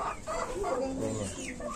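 Upgraded native chickens cluck steadily close by on a farm, several overlapping birds making a continuous busy chatter with no talk.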